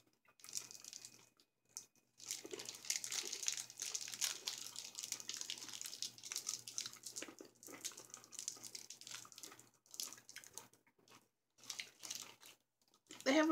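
Crunchy-shelled, M&M-like Dollar Tree Christmas candies are chewed close to the mic, producing bursts of crisp crunching separated by short pauses.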